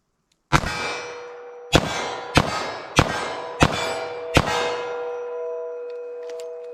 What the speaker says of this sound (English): I have these backwards wad cutters I loaded a long time ago, probably 3 years ago. Let's see how these shoot center mass.